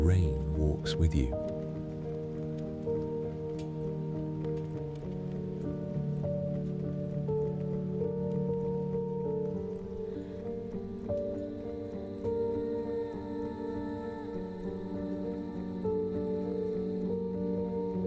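Rain falls steadily in a calm sleep soundscape, a soft, continuous patter beneath slow, gentle narration and a low, sustained musical drone.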